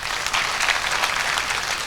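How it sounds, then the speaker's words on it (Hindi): Loud audience applause at a provincial convention of diploma engineers in Kota, Rajasthan, a dense steady wash of many hands clapping throughout. "एक बार पगड़ी के लिए, राजस्थान के स्वाभिमान के लिए जोरदार तालियां।"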